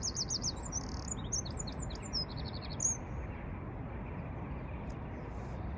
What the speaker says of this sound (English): Birds flying overhead.